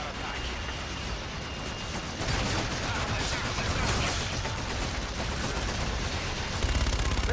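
Gunfire in the video game Call of Duty: Infinite Warfare rattles as rapid, dense automatic bursts that run continuously and grow louder partway through, with faint game noise mixed in.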